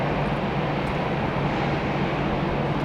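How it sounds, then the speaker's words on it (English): FedEx Airbus A300 freighter at Tampa airport, a steady, loud broadband engine roar holding evenly throughout with no talk. "A300 freighter."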